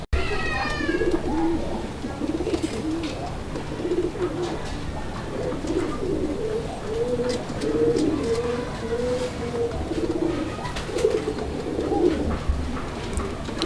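Domestic pigeons, including large Bengali show breeds, coo in a close, repeated series of soft throaty calls over a faint background murmur, with no speech.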